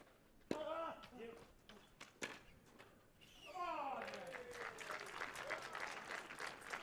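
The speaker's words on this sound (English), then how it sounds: "the generous applause there at the end of the rally" Generous applause from a tennis crowd at the end of a rally, starting with a few sharp claps and swelling into sustained clapping, with a commentator speaking over the start.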